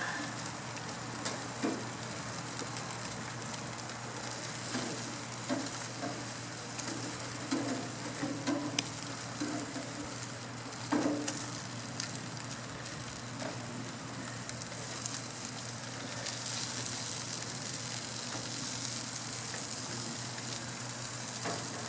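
Tomato basil burgers sizzle steadily on a backyard BBQ grill, a continuous broadband crackle with a few soft knocks as the patties are flipped, birds faintly in the background.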